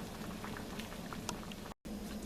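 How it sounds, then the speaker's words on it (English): A pot of water boils on a stovetop for watermelon rind candy, giving a steady bubbling, pattering rumble up close that continues without pause apart from one brief cut, no voices. "This started boiling."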